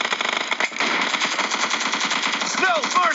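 AKM assault rifle sprayed in a video game, a dense, unbroken burst of rapid gunfire that stays loud and close throughout, with faint game sounds over the end.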